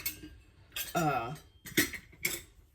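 A spoon scrapes and clinks against a bowl while stirring bread flour to loosen it, several clattering strokes with a short voiced sound between them, close and fairly quiet.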